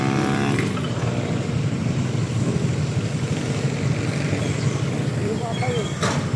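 Motorcycle engine running steadily throughout while riding, a continuous close low rumble with wind noise and occasional talk over it.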